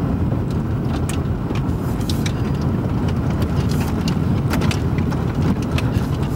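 A car rolls over a small bridge on a snowy winter road, a steady close engine-and-tire rumble with scattered sharp clicks and crunches from the surface.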